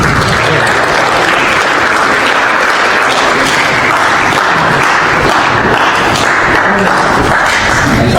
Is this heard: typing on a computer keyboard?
no